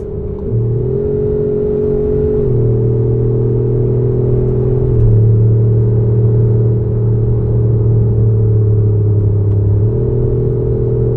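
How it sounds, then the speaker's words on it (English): Mercedes SLS with an X-Haust exhaust holds a steady, loud idle-like drone, stepping between engine speeds every few seconds with a deep rumble throughout, no voices. "Next one we got is a Mercedes SLS."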